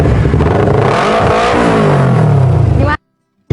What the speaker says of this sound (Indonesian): kalau kamu memang mau nunjukin suara knalpot kamu nggak apa-apa